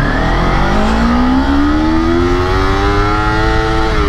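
A Kawasaki Ninja 250R motorcycle accelerates hard, its engine note climbing steadily in pitch, loud and close, with no talk over it.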